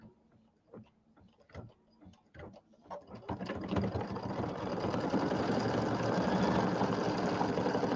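A home embroidery machine sews a tack-down line on a fabric piece for a quilted table topper: a few separate clicks and ticks give way to a steady, fast, close mechanical stitching chatter that builds louder and continues without talk.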